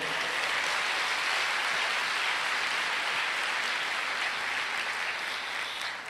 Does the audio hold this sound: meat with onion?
no